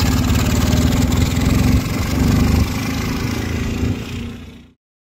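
A military diesel motorcycle engine running on aviation fuel, a loud, close, steady low chugging throb that holds firm for a few seconds, then fades and cuts off abruptly near the end, with no talking.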